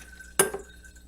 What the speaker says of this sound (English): We're just going to pour this coffee into this clean half-gallon